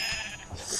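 A single brief sheep bleat comes from Minecraft, short and fairly close against faint game background noise.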